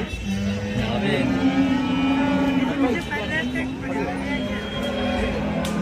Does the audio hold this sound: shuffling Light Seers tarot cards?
no